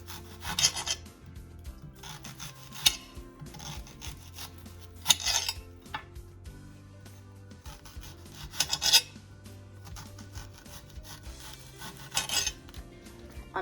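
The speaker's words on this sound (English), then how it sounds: "A pound of onions is another ingredient, and they need to be cut like onion rings." A knife slices a pound of onions into quarter-inch rings for Uzbek pilaf, giving a series of close, scraping cuts in irregular bursts with quieter gaps between them and no talking.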